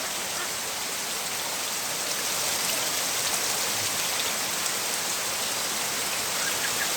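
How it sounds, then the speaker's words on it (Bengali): Rain pours down on a rooftop in a dense, unbroken hiss, loud and steady from start to finish, with no voices over it. "বৃষ্টি হচ্ছে,"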